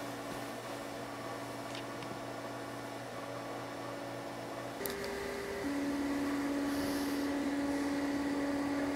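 A small 12-volt, 1.7-watt fan runs on wireless power from a Tesla-style transmitter coil, giving a steady electrical hum and whir that steps up to a louder, higher-pitched drone about halfway through.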